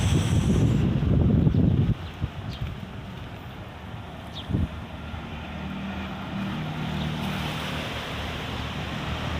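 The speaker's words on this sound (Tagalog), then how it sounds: "Mahangin po dito guys." Wind rushes over the microphone at a seashore in Amin province while surf washes steadily in the background, with a louder gust at the start.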